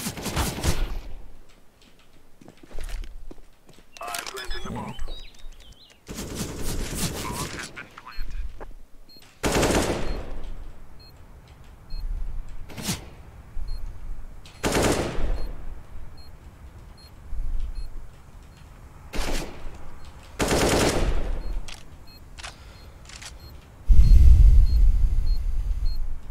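Bursts of machine gun fire ring out in a video game, several loud rapid volleys separated by short gaps, ending with a heavier rumbling blast.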